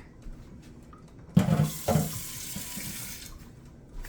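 A kitchen tap gushes as a bowl used for no-bake peanut butter cookies is rinsed, the water striking the dish in two strong splashing bursts before easing back to a faint trickle.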